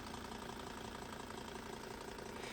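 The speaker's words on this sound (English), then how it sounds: "I'm now going to go around and start the engine" A diesel car engine idles steadily at a constant low, even level with the bonnet open, a continuous rumble and no speech over it.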